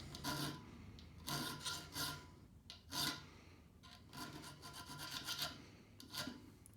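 A hand file rasping a vine pattern into a knife spine, quiet close strokes in irregular bursts with short pauses between them, no talking.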